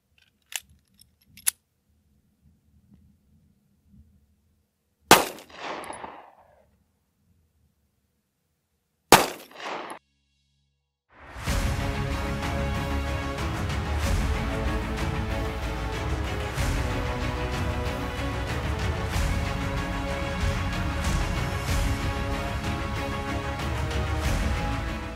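Gunshots from 9mm Super Vel 115gr SCHP rounds fired into a test block through heavy clothing ring out as a few sharp, isolated cracks with short echoing decays amid silence, followed by steady music.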